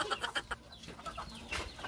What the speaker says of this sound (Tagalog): Ayan po, mga manok.